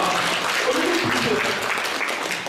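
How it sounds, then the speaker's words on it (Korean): Audience applause during a lecture by a comedian: a continuous, fairly soft spread of clapping from the crowd, with a faint voice briefly audible beneath it. "박수 나가니까"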